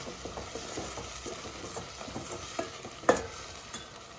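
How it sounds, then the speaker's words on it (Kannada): Masala sizzling and frying in a pan for a crushed radish curry, with steady crackling and stirring scrapes, a sharper clink near the end, no voices. "ಮಸಾಲಾನ ನೀಟಾಗಿ ಫ್ರೈ ಮಾಡ್ಕೊಬೇಕು."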